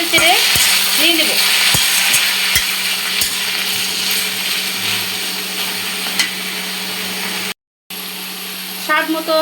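Taro stems stirred into browned onions in a hot pan give a loud, continuous frying hiss with a few sharp clicks early on. A voice speaks briefly at the start and again at the end.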